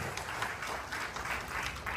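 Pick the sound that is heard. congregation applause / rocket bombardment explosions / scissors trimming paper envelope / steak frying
congregation applause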